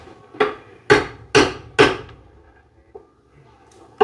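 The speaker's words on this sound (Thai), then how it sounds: "ตอก" A hammer drives into wood with four sharp, ringing strikes in a steady rhythm, then a couple of lighter taps, close and loud with no talking.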